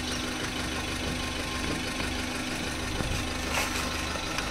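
A used sedan's engine idles in a steady, even drone with a faint rhythmic knock, continuous and fairly close with no voices over it.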